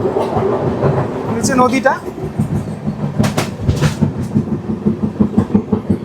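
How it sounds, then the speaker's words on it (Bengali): A scenic hill train in West Bengal clatters steadily along the rails past tea gardens and a river, its rhythmic wheel clicks loud and close, with a brief squeal and a voice speaking partway through. "আবারও চা বাগানের মধ্যে দিয়ে আমাদের ট্রেন পাস করছে"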